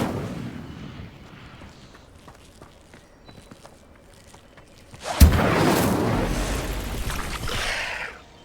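A spell burst erupts suddenly in the Hogwarts Legacy video game, an Incendio fire cast flaring into a loud, roaring whoosh that sustains for about three seconds after quieter footsteps and ambient game sounds.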